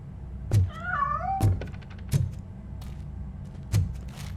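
Several short cat meows with rising, wavering pitch inside the video game Robocop: Rogue City, heard close among game thuds and ambient noise.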